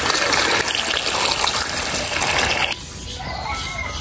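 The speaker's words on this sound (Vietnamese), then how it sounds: "Giờ thì mình sẽ bỏ nước vô" Water poured to soak snails makes a loud, steady gush that stops abruptly, leaving a softer trickle and background noise.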